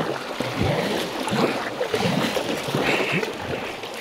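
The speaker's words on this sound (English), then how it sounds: "Got some wind waves here that I can take advantage of, get a little boost." Wind-driven waves slap and wash against a kayak on a lake in Algonquin Park, with gusty wind noise buffeting the microphone and uneven splashing surges close by.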